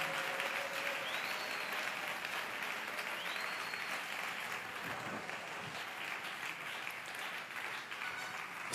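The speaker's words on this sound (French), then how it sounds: "Vous pouvez acclamer en honneur de Jésus pendant 1 minute" Stadium crowd at an evangelical campaign in Brazzaville applauding in honour of Jesus, steady sustained clapping with faint cheers and whistles throughout, moderately distant and continuous.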